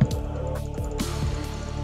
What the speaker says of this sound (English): when you click you get bubbles!